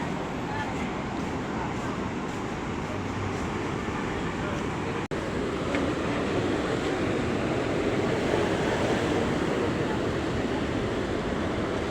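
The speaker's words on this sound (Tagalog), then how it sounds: "Lakas ng alon guys." Steady roar of ocean surf crashing continuously, loud and close, with a brief pause in the middle.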